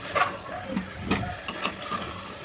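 Meat being sautéed and stirred in a pan, with a soft continuous sizzle broken by a few scraping stir strokes, close and moderately quiet.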